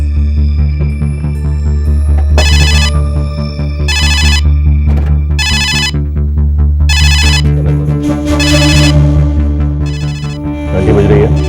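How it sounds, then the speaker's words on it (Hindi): A telephone rings in several loud, evenly spaced bursts over a bed of dramatic film music in a Hindi crime thriller, with no speech during the rings. "घंटी बज रही है, मैं बात करूं।"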